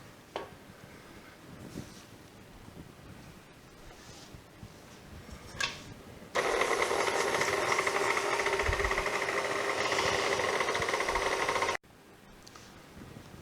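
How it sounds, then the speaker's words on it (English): A kitchen mixer beats homemade cheesecake batter with vanilla extract, starting suddenly as a loud, steady whirring drone that runs for about five seconds and then cuts off. Quiet background noise comes before and after it. "Then we'll put that in the mixer"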